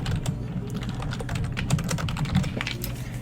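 Rapid clicking keystrokes on a computer keyboard, close and fairly quiet, tapping in quick irregular bursts with no voices.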